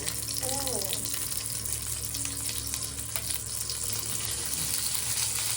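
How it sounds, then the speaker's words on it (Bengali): Nigella seeds and green chillies tempering in hot oil give a soft, steady sizzle throughout, heard close but faint, with low background noise. "একটু কালো জিরে কাঁচা লঙ্কা ফোড়ন"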